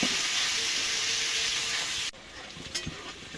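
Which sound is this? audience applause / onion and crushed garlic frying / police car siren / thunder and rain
onion and crushed garlic frying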